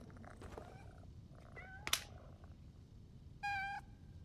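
A cat meows in PowerWash Simulator 2, a few soft mews and a short rising call followed by a loud, clear tonal meow near the end, over a low steady hum.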